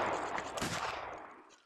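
A volley of rifles fired on command in an Anglo-Zulu war video game at Rorke's Drift with the 33rd Regiment of Foot, a fairly quiet burst of overlapping crackling shots peaking midway then dying off.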